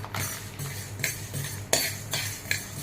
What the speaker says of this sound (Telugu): ఇప్పుడు కళాయి పెట్టుకొని కళాయి వేడైన తర్వాత ఒక 2 స్పూన్స్ మెంతులు ఫ్రై చేసుకోవాలి.